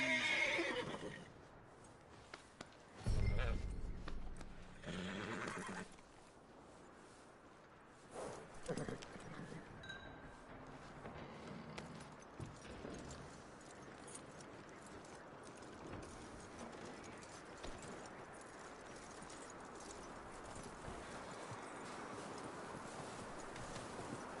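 A horse's hooves clop quietly and unevenly, with a loud close whinny early on and a few bursts of movement, then settle into a soft, steady background of hoofbeats and rustle.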